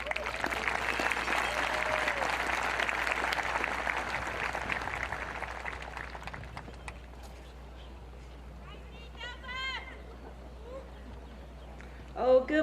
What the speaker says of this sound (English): Please give a big round of applause for our commencement speaker